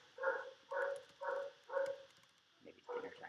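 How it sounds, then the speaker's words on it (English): A neighbour's dog barks in the distance, four evenly spaced barks followed by a couple of quicker yips, faint against a quiet room. "Oh, neighbor's dog's going crazy."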